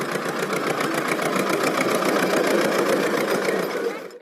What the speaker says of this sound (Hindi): ईंटों को तैयार करने वाले जगह से दीपू घर बनाने वाले जगह तक लिलीपुट्स उस मिनी ट्रैक्टर में ईंट लाए।